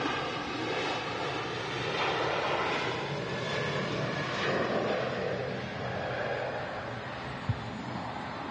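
Aer Lingus regional propeller airliner heading out at Manchester Airport, a steady, broad engine roar at moderate distance holding level throughout, with a single faint click near the end and no talking.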